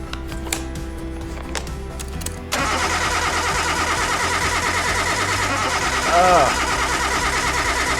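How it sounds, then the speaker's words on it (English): A van engine in a garage cranks and catches at about 2.5 seconds, then settles into a steady loud idle with a brief rise in revs near the end, preceded by clanking sounds. "let's try to start the engine"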